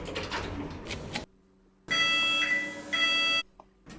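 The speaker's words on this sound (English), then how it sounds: "Once again, we have a broken alarm." A buzzy electronic alarm tone from a broken alarm in a Scratch project sounds steadily for about a second and a half between quieter stretches of background noise.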